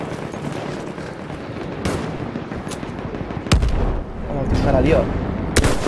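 Sniper rifle gunfire in the video game Battlefield 1 on a desert map: several sharp single shots ring out over constant battlefield noise and distant combat while someone talks.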